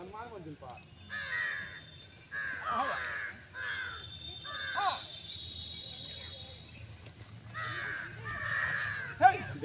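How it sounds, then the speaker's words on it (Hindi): Many crows cawing outdoors in a village in Bihar, repeated harsh calls in clusters from several birds at moderate distance, with someone talking between them and crickets faintly in the background. "देख लीजिए कौआ उआ को, भाई सब कितना कौआ आ गया, कौआ देख लीजिए गाइस"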